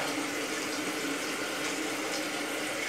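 Toilet tank on a newly installed Smarter Flush dual-flush toilet refilling after a half flush, a steady hiss of rushing water that holds at an even level throughout without pause.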